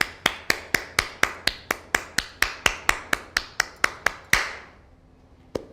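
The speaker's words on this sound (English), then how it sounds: "I'm beginning to clap" One person claps alone, about seventeen sharp, evenly spaced claps in a steady rhythm. Each clap is crisp and close with a short room ring, then silence falls and one faint tap follows.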